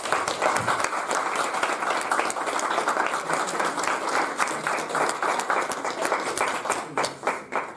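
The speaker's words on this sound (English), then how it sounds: "Wow, another round of applause for Louise." Sustained applause from an audience for a speaker named Louise, steady dense clapping filling the room throughout, with faint voices mixed in near the end.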